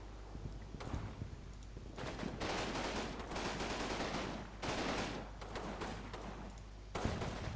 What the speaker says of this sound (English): Some more guns shooting at them, even if it's just rifles.